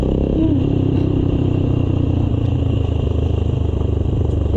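A sports bike engine-brakes on a rough, potholed road: a steady, loud, dense engine drone with rattling clatter running continuously throughout, with no one talking.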